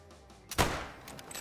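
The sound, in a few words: 300 Blackout rifle gunshot in Call of the Wild hunting video game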